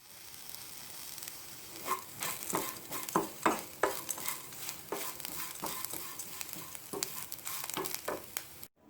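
Curry leaves hit a hot pan during Kerala black chickpea curry preparation, giving a crackling sizzle with repeated sharp pops and stirring scrapes, close and steady with no voices.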